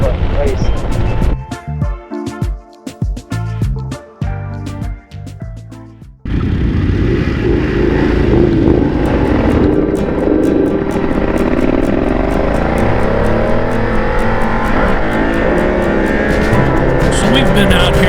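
Motorcycles run on canyon back roads; after a few seconds of choppy, music-like sound, loud continuous engine and wind roar takes over, with the engine pitch sweeping up and down as the bikes ride.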